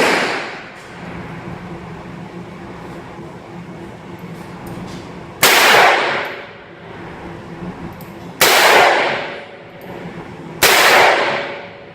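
Three loud revolver shots fired double action, spaced a few seconds apart, each a sharp crack with ringing decay over faint background noise.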